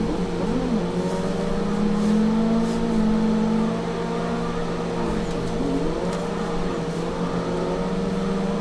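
Simulated car drifting in the Assetto Corsa racing game, with a clutch kick: a loud, steady engine drone with rising and falling revs and tire noise running throughout.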